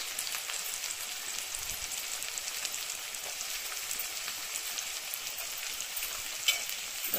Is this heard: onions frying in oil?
yes